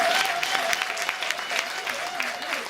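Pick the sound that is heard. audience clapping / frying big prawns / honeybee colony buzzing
audience clapping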